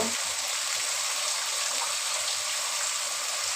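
A continuous, even rush of running water, splashing steadily into a vessel without pause, fairly close and loud, with no talking.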